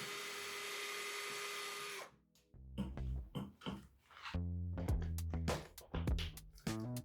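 A powered screwdriver whines steadily for two seconds while backing out the bolts on an e-bike battery pack cover, then short bursts follow with clicks and rattles as the bit and parts are handled.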